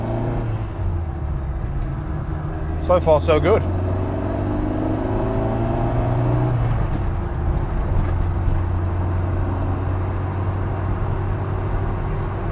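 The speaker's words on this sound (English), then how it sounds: "This is, like I said, the first time this engine has been driven." A Ford Fiesta Mk1 with a transplanted Zetec engine hums steadily on its first drive along the road, with someone speaking briefly over the rumble.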